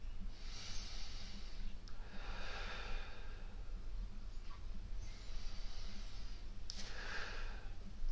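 A person holding a hamstring stretch breathes slowly and deeply, taking four or five audible airy breaths in a steady rhythm, close and fairly loud over a low background hum.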